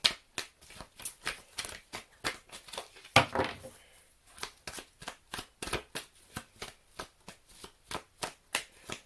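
Tarot cards are shuffled in a rapid, regular run of crisp riffling snaps, broken by one longer burst partway through, close and clear with no talk.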